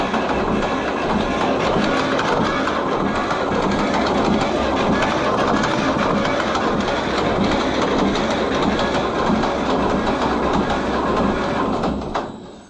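Old 1948 John Deere B tractor engine cranking and sputtering unevenly as it tries to run, a loud continuous rough mechanical rumble and clatter that carries steadily then cuts off at the end.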